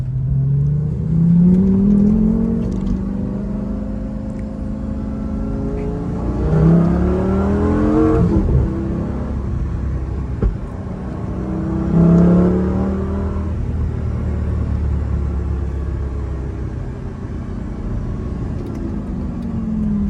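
A Lamborghini Gallardo engine drones and swells through repeated gear changes while driving, then eases off as the car slows to a stop; loud and close, with no talk.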